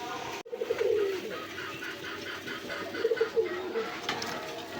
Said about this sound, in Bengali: বন্ধুরা এই যে একজোড়া রেসার কবুতর আছে, দেখেন এগুলো হচ্ছে ব্ল্যাক রেসার কবুতর।